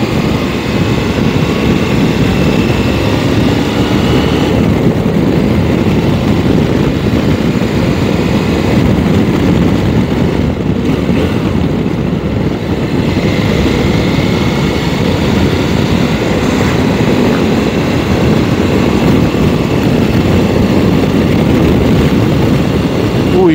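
A 2022 CFMOTO 800MT motorcycle engine runs in sport mode during a test ride through curves, producing a steady loud roar blended with heavy wind rush throughout.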